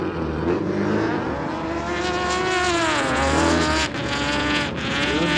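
A Subaru rallycross car at a rallycross event races with a loud, continuous engine roar, its revs rising and falling through gear changes, with brief dips and tyre noise, close and dominant throughout.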